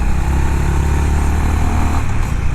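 A Honda H'ness 350 single-cylinder motorcycle engine running loud and close, a steady thumping idle with a slight rise in revs near the end.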